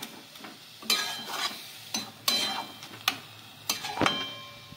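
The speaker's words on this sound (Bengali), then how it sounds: "দুধ দিয়ে নারকেলটা সামান্য একটু কিছুক্ষণের জন্য একটু নেড়ে চেড়ে নিয়েছি।" Coconut simmering in milk in a pan is stirred by hand with a spoon, giving several distinct scraping strokes at an irregular, fairly steady pace over a faint, quiet background sizzle, with no talk.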